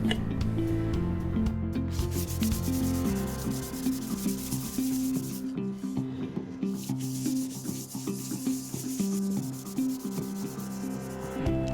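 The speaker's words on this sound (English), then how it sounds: "Next, we are going to do a little bit of sanding." Steady, continuous abrasive rubbing of sandpaper against a repaired ridge tile, a close, loud scratching that runs without pause for the whole stretch.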